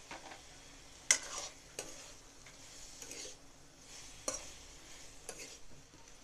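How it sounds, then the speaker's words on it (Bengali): Spice paste with turmeric, salt, ginger-garlic paste and chilli powder frying in a pan, stirred with a few sharp utensil scrapes and knocks over a quiet, low sizzle. "আর এগুলোকে আমি ভালো করে সবটাকে নেড়ে নেড়ে এরকমভাবে ভেজে নিব মশলাটাকে।"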